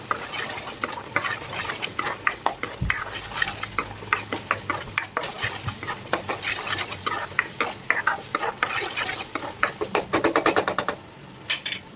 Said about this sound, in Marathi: आणि आता हे पण 10-1 मिनिट अजून फ्राय करून घ्यायचा हा मसाला